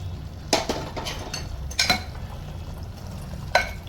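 Meat curry with potatoes and spices is stirred in a pan, giving a few clear scraping and clinking knocks of a utensil against the metal over a low simmering sizzle, with no voices.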